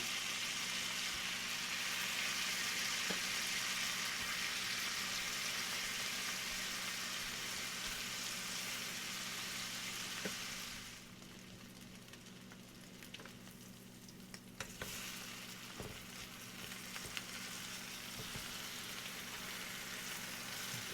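Slices of bread for a duck egg and rye whiskey pain perdu fry in butter and olive oil, making a soft, steady sizzle over a low hum that quietens partway through and picks up faint scraping taps.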